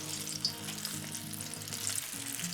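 A fritter fries in hot oil with a steady close sizzle and crackle that continues without pause, nothing else heard.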